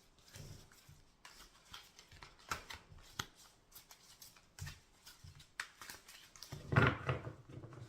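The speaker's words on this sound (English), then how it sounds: "I'm just going to take a moment to tune into the cards and to shuffle them" A deck of cards being shuffled by hand, soft intermittent riffles and flicks with brief pauses between them, quiet and close with no talking.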